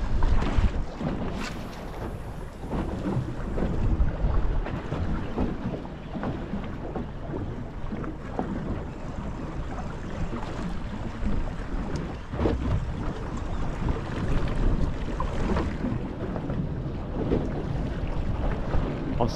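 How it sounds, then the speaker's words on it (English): Outboard motor idling on a small fishing boat held at anchor over a sandy hole amid big ocean swells, a steady low rumble mixed with water slop and gusty wind buffeting the microphone throughout. "still got my motor running here because I just want to make sure the anchor's all right."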